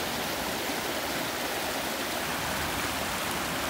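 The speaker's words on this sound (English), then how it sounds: "I just love the water sound." Steady, full-bodied rush of flowing stream water, continuous and close, with no voices or other sounds over it.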